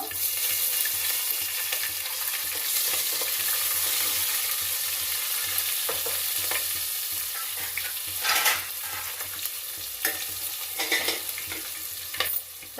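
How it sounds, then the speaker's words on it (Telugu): Chopped onions and green chillies sizzling in hot oil in a pan while cooking radish sambar, with a steady loud crackling hiss throughout and a few sharper stirring clatters near the end. "చిట చిట అంటున్నాయి ఇప్పుడు ఉల్లిగడ్డలు వేస్తున్నాను పచ్చిమిరపకాయలు"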